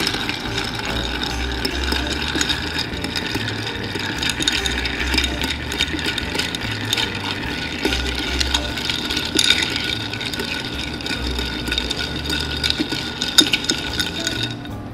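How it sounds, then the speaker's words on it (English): Ice and liquid are stirred in a mixing glass for a Manhattan with rye whiskey, giving a steady, close clinking and swirling texture that runs continuously without any talk. "we're gonna stir again"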